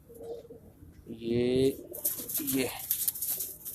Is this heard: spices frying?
no